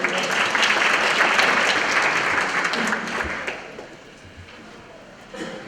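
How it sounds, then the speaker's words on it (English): A crowd applauds loudly and steadily, then the clapping thins and fades toward the end, with a brief final burst. "Give yourself a round of applause."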